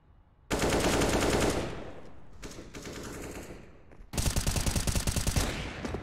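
Automatic gunfire in the game Counter-Strike during a tournament match, a long rapid burst, a quieter stretch, then another fast rattling volley, moderately close, no clear speech.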